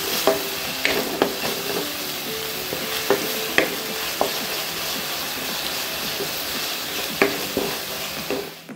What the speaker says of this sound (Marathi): आता यात मी ही जी हिरवी मिरची, आलं लसूण आणि कोथिंबीरची पेस्ट आहे ती टाकली आणि छान परतून घेणार आहे